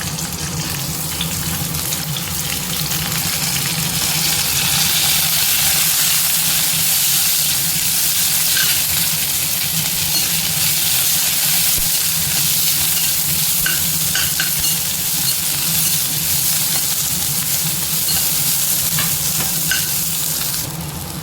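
Garlic cloves and chopped onion sautéing in a pan, a loud, steady close sizzle with hissing steam and intermittent stirring clicks throughout, no voices.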